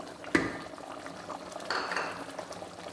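A ground almond and poppy seed milk paste poured into a cooking pot for chicken korma, giving a brief close splash and then a wet sloshing pour.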